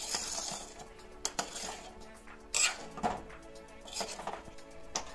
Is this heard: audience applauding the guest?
no